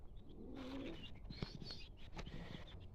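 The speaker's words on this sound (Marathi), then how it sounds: "आणि इकडे कबूतर आहेत." Pigeons kept with village chickens give soft, low coos, faint against a quiet rural background with a few small chirps and clicks.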